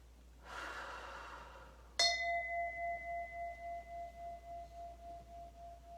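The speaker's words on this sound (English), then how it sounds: "Take a deep breath." A single long, deep inhale draws in for over a second, then a clear ringing tone strikes and sustains, slowly pulsing as it fades, with no talking.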